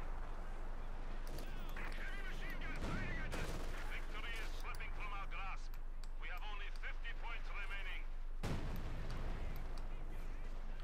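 Dense rapid gunfire and explosions from the Company of Heroes 2 real-time strategy game, with steady bursts of machine-gun and rifle fire and heavier thuds under continuous battle noise and a constant low hum.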